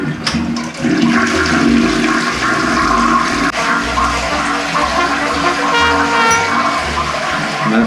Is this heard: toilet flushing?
yes